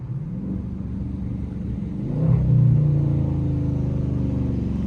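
A stage 4 cammed Chevy SS engine rumbles nearby with a deep, uneven lope, swelling louder midway as it revs slightly, then settling into a steady throaty idle.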